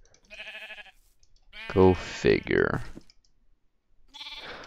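Sheep bleat in Minecraft, several wavering game bleats alongside clicks, with a voice speaking briefly over part of it.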